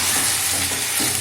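Moringa drumsticks, potatoes and turmeric fry in a pan while being stirred, with a steady close sizzle and soft scraping, loud and continuous through the brief moment.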